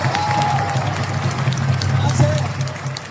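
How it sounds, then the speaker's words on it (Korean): An outdoor audience at a New Year sea ritual on the coast off Gampo keeps up clapping and crowd noise throughout, with voices mixed into the steady applause. "여러분 박수 한번 주세요"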